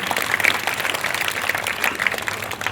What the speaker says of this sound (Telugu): చప్పట్లు కొట్టాడు దేవునికి